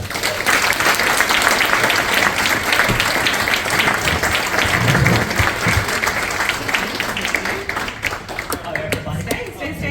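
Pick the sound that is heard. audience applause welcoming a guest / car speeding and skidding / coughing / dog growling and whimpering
audience applause welcoming a guest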